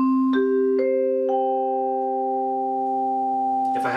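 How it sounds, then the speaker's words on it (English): Mallet percussion bars struck in a rising sequence of three clear tones, each left to ring and sustain naturally while overlapping the others, ending in a brief soft rustle. "Sustain the bars as long as they naturally want to ring."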